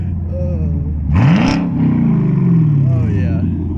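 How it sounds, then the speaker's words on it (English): A 2017 Camaro SS with an aftermarket exhaust gets its engine revved: a steady idle rumble rises sharply into a loud rev, holds, then slowly falls back to idle, with voices faintly in the background. "About to give it some revs."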